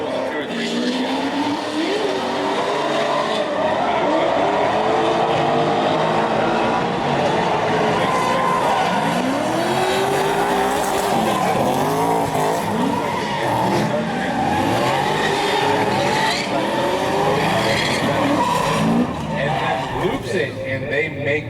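Race cars, among them a big-power Ford Mustang, launch off the starting line at a pro-am seeding event, engines roaring loud and steady throughout with rising and falling revs and tire noise, under a commentator's continuous talk.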